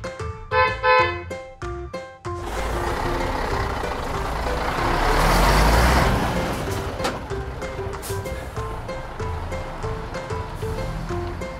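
A yellow toy tow truck plays electronic sound effects: a run of bright chime notes, then a long swelling whoosh and rumble, followed by repeated short beeps.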